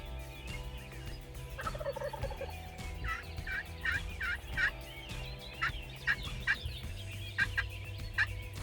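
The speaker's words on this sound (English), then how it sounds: "It wasn't even 2 or 3 minutes later when we heard our first gobble." A wild turkey gobbling outdoors near a hunting cabin, a series of rapid gobbles repeating through the clip at moderate distance over low background rumble.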